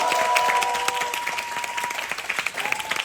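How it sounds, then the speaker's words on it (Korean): Theater audience applauding during a musical's final-performance curtain call, a sustained crowd of clapping hands with a faint held musical tone early on and scattered voices. "여러분들도 크게 한번 박수 한 번 주시면 너무 감사드릴게요"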